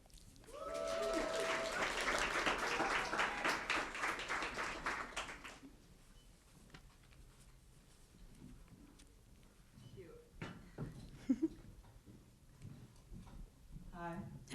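Audience applause for two panelists at a climate justice panel event in Brooklyn, a dense burst of clapping lasting about five seconds before fading into quieter room sounds and brief voices.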